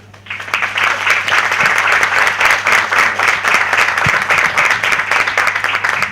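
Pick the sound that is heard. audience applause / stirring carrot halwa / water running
audience applause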